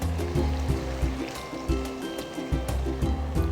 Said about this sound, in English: Last, we add the kimchi juice and little water.